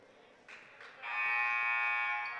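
A basketball buzzer sounds in a gym during a high school boys' game between West and Memorial, a loud, sustained electronic tone that starts abruptly after faint crowd noise and holds to the end.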